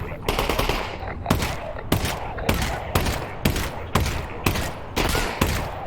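Rapid gunshots ring out in the Half-Life: Alyx video game, about ten sharp, loud cracks in a fairly regular rhythm over several seconds, each followed by a brief decaying echo.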